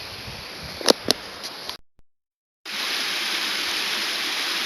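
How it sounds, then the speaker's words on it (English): Hill streams flowing, a steady broadband rush of water with a few sharp knocks early on, then a sudden cut to silence before the rushing flow resumes at the same level. "All the streams, I think, in these hills are flowing right now."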